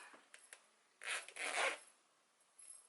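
A zipper on a handmade knit or crochet item pulled open in a couple of quick rasping strokes, close and fairly quiet, after a few small clicks; the zipper is stiff to open.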